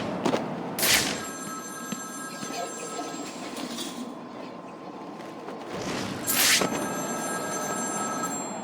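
A telephone rings in Batman Arkham City: two bright, sharp bursts of ringing several seconds apart, set over a murky, rumbling ambient background, with no speech.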